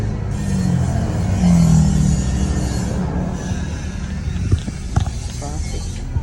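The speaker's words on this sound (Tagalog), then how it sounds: "Traffic." Rush hour road traffic in Baguio City, Philippines, a dense steady roar of engines and passing vehicles with occasional louder surges, heard close with a person talking over it.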